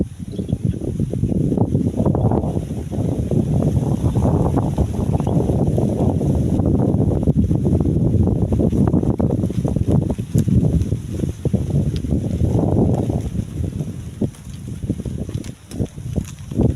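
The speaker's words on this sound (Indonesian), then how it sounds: "karena ini anginnya kenceng sekali Mas Bro" Strong, gusting wind buffets the microphone outdoors near a nest site, a loud continuous roar that swells and dips throughout with no voices.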